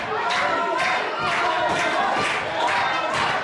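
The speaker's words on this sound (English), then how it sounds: "Listen to this crowd here in Burton-upon-Trent." A wrestling crowd in Burton-upon-Trent roars steadily for Reece Riley during a street fight, a dense, continuous wall of shouting and cheering with swells of louder yelling throughout.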